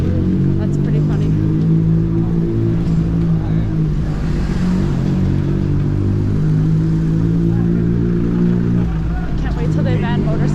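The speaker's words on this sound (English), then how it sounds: "there is a motorcycle riding behind me in the bike lane" A motorcycle rides close behind a bicycle in a Paris bike lane, its engine a steady, loud droning hum with slight revving swells that persists throughout, mixed with street and wind noise and a voice talking over it.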